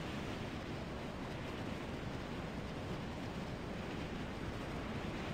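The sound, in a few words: going over a waterfall in the video game Far Cry 3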